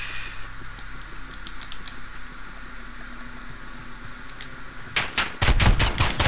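Rapid automatic gunfire in Modern Warfare erupts late as a loud, close burst of shots, after a stretch of quieter game ambience with faint clicks.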